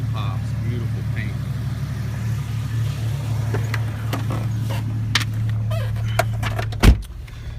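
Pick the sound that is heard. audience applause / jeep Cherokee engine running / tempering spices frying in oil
jeep Cherokee engine running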